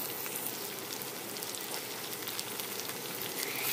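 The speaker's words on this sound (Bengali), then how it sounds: "পেঁয়াজ কুচিটা হালকা ভেজে দিয়ে দেব আলু কুচি, সিম কুচি দিয়ে এবার সব ভালো মতো একসাথে ভেজে নেব" Onion, potato and flat bean pieces fry together in a pan, giving a steady, dense sizzle with fine crackling throughout, close and continuous with no voices.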